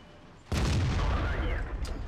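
A T-54 light tank in a video game fires its cannon with a sudden loud boom that rolls into a sustained rumbling roar, and a voice talks underneath.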